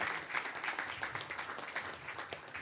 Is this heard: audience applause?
yes